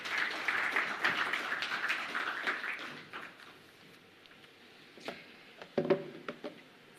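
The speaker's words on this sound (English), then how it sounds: "Round of applause for Roy." Audience applause at a fintech forum in Africa as a speaker comes to the stage, scattered clapping that starts moderately, thins out, then returns in a few sparse claps near the end.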